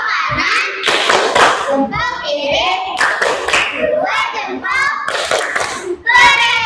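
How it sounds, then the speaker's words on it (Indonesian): Schoolchildren perform a patterned 'tepuk keren' cheer-clap for three winners, sharp rhythmic group claps in sets alternating with chanted children's voices, loud and close in a classroom. "Kasih tepuk keren untuk ketiga pemenang ini."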